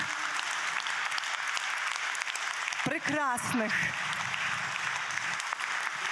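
Audience applause at the Kolyada folk festival in Ivano-Frankivsk is sustained and dense, filling the space while a speaker talks over it and a brief sung phrase cuts through the middle.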